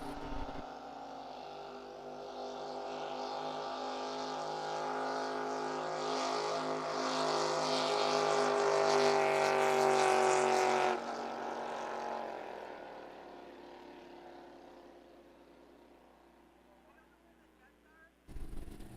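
A drag racing boat roars through a qualifying pass at San Angelo in 2023, its engine building steadily in pitch and loudness over about ten seconds before cutting off abruptly, leaving a fading distant rumble.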